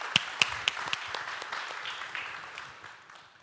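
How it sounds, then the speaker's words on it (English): Audience applause welcoming a speaker at a panel on sustainable food in Denmark, a few sharp close claps at first, then steady clapping from the room that gradually fades. "let's welcome him once again, because it makes us so happy to applaud."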